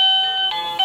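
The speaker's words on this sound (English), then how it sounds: "Wireless bells over here." Brief, close electronic chime from a wireless doorbell on an interactive shop display, holding steady ringing tones with small pitch shifts and no talking over it.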